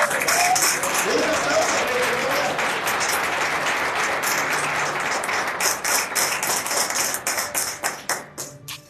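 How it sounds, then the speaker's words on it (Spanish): A church congregation applauds the Lord in a sustained burst of dense clapping and cheering that fills the hall, then thins into scattered, fading claps near the end. "Den un aplauso al Señor."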